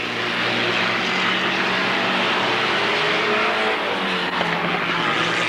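Race cars at Alwalton Raceway in 1983 roaring down the starter straight, a loud, continuous wall of engine noise from several cars passing close together, with no let-up.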